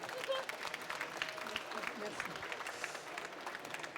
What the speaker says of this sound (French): On peut déjà applaudir Madame Yen.